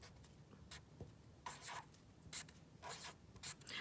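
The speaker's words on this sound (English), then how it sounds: "on one side of my T, I'm going to write the word field" Pencil or pen scratching out a word on paper, short bursts of close, dry writing strokes with brief pauses, no talking.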